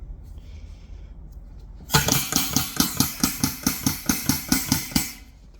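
Lincoln 917-57 air-operated grease pump on a 120 lb drum, starting after a faint hiss and then beating in a fast, even run of loud mechanical strokes, about three per second.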